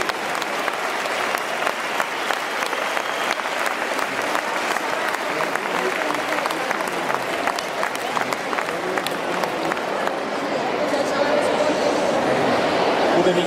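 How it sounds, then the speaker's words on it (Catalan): An audience at an ANC celebration in Lleida gives a speaker sustained, dense applause from a sizeable crowd, steady and loud throughout, swelling slightly near the end with some chatter mixed in. "Un fort aplaudiment i gràcies per ser aquí."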